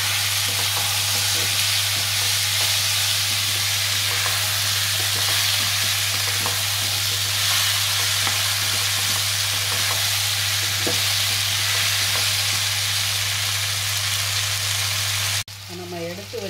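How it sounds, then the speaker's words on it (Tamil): Pumpkin pieces with turmeric and salt sauté in a pan, a dense continuous sizzle over a low steady hum, with scattered spatters and stir clicks throughout before it cuts off near the end. "இந்த எடுத்து வச்ச மஞ்சத்தூள், மஞ்சள் உப்பு போட்டு இதை நல்லா ஒரு 5 நிமிஷம் நல்லா வதக்குங்க."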